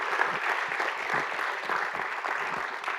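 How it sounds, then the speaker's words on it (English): Applause from an audience at a budgeting training session, steady and moderately loud across the whole stretch with dense overlapping claps and no voices standing out. "Can you give her another clap?"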